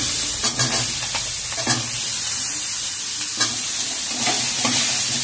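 Plantain pieces frying in hot oil in a pan for Bengali shukto, a continuous loud sizzle with occasional stirring scrapes, close and without talk.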